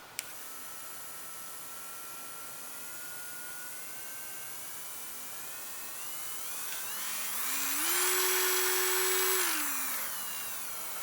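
An electric nail e-file drill rated up to 35,000 RPM whines steadily at high pitch, then its speed dial is turned up so the tone rises and swells louder for a couple of seconds before dropping back down.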